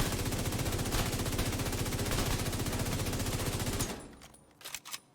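A FAMAS assault rifle in The Division video game fires a long, rapid automatic burst, dense and continuous for about four seconds before stopping, followed by a few faint clicks.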